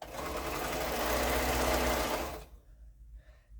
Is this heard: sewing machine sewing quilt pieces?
yes